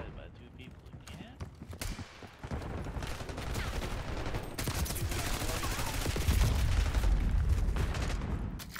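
Gunfire in a Call of Duty Black Ops 6 match: dense, continuous rattling shots at fairly close range that swell in loudness toward the end, mixed with game voices and other players talking.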